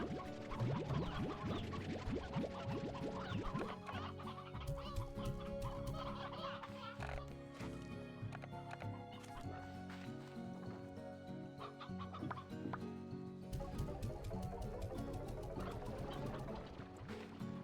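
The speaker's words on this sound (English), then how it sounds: "Chicken" Chickens cluck in the video game Slime Rancher 2, scattered short clucks mixed into busy, steady game music and effects throughout, with no talking.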